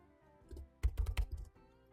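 A short burst of a few keystrokes on a computer keyboard, quick light clicks clustered within about a second, fairly close and alone, with quiet before and after.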